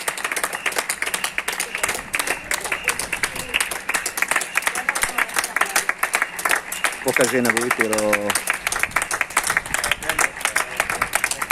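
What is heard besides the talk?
people applauding healthcare staff outside a hospital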